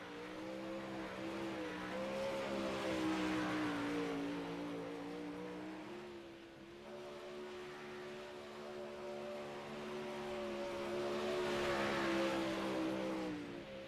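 Race car at a short-track championship night heading out on track for qualifying laps, its engine droning steadily with a harmonic whine that rises and falls as it accelerates, continuous and fairly loud with no talking.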